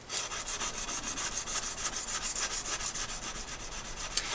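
Dry sandpaper rubbed by hand along a steel knife blade, a fast regular back-and-forth rasp of many even strokes, close and continuous with no talking.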